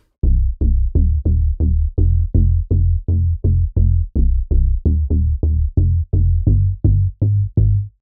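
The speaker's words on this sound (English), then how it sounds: "Bass Dust is a really cool FM bass." Deep FM synth bass for tech and minimal house pulses in a steady, evenly spaced stream of short plucky notes, about seventeen hits, loud and dry with nothing else playing.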